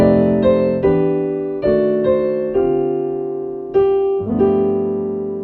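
Jazz piano chords played one after another at an easy pace, each ringing out and decaying before the next, seven or so changes with no talking.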